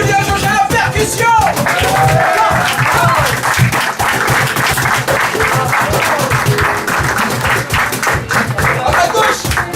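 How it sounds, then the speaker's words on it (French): A festival crowd claps steadily for a percussionist, with dense, sustained applause that stays loud and even throughout, mixed with crowd murmur and a few voices. "Vous pouvez applaudir Julien Georges à la percussion."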